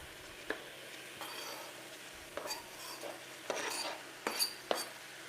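Onions go into a pot for butter chicken, with scattered clinks, scrapes and soft clattering of utensils against the pot at close range, coming in several short bursts over a low background.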